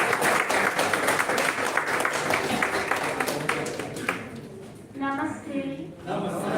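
Audience clapping at a college oratory contest, a dense burst of applause for a student being called up, fading after a few seconds as a voice begins speaking.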